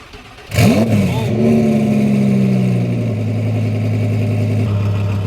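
A twin-turbo V10 Audi R8 built to about 1,300 horsepower fires up with a sudden loud bark and quick revs, then drops into a deep, steady, rumbling idle close by.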